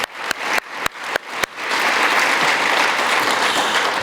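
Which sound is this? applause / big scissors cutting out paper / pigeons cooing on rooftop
applause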